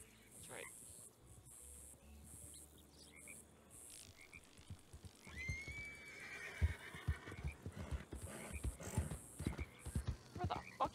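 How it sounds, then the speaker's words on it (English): A horse neighs in a Wild West roleplay video game, its whinny rising in the middle, mixed with hoof clops, crickets and game ambience while people talk. "do you get that horse?"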